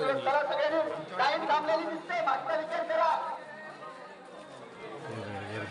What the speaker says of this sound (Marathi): लाईन गर्दी आहे